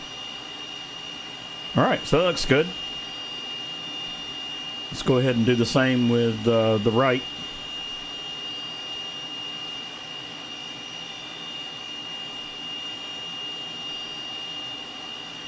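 The twin jet engines of a T-37 Tweet in Flight Simulator produce a steady, constant whine and hum across the whole stretch, while someone briefly talks over it twice.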